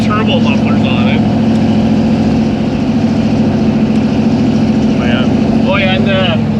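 A nose-high 1964 Chevy II gasser rumbles loud and close, its deep throbbing engine steady underneath as people talk over it.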